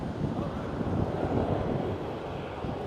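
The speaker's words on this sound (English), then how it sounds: "There goes KLM A330." A KLM Airbus A330 airliner passes at Schiphol, a dense low engine roar mixed with microphone wind buffeting, fairly loud and steady for a few seconds.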